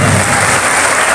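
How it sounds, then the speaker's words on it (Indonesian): Loud, dense applause from a university student gathering at UNUSIDA Sidoarjo, a brief close burst of many hands clapping together with no pause. "Tepuk tangan untuk kita semuanya."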